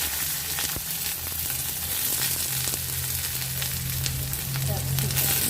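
Onion and capsicum sizzle over high heat in about two tablespoons of oil in a wok, a steady close crackling fry with occasional stirring scrapes and no voices.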